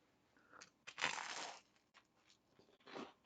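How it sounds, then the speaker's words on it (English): Toast is bitten and crunched close to the mic, with one loud crisp bite followed by a few quieter chewing crunches and a final crunch near the end. "I'm going to try this toast."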